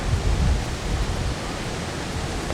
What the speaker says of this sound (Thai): เสียงน้ำนี่ฟังแล้วรู้สึกผ่อนคลายมากเลย